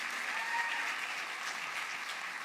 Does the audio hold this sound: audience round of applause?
yes